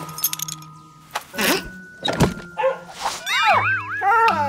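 A dog in a backyard gives a few short barks and whimpering sounds amid thumps and clatter, fairly close, followed by a louder whining, wavering vocalization near the end.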